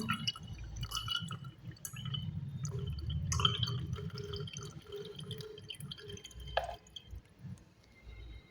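Water mixed with medicine trickling into a bottle, a quiet, close dripping and filling sound with small splashes and no talk.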